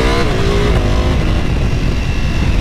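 A Ducati Panigale V4S motorcycle pulls away, its loud engine revving up with a rising pitch before settling into a rough, roaring drone as it rides off.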